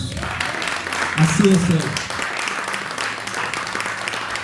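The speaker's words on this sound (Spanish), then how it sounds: "Dale un aplauso a Dios" Church congregation applauding during a Spanish-language Sunday service, a steady crowd clapping spread across the room under a preacher's speech.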